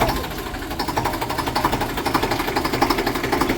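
A village flour mill (chakki) running at home, a loud steady mechanical drone with a fast rhythmic pulsing throughout, close by and alone without talk.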